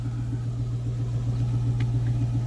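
An Infiniti M45 VK45DE V8 idles close by with a steady, low, throbbing rumble from an exhaust with blast pipes, even and unchanging.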